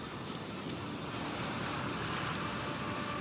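Ocean surf washing onto a sea-turtle nesting beach, a steady, full roar of breaking waves with wind, continuous and unbroken, with no voices.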